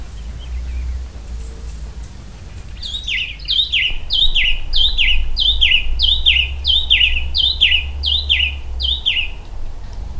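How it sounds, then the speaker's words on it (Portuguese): In a forest, a bird repeats a rapid series of about a dozen bright, descending chirped notes in steady rhythm, close and clear over a low rumbling background. "As aves também estão em festa"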